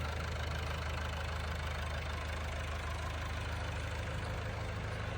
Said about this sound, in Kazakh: Бул Корея өндүрүшүнөн чыккан LG деген трактор.